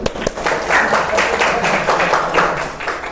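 A group in a teaching session claps for the winners of an activity, several seconds of close, steady applause with a few sharp individual claps at the start.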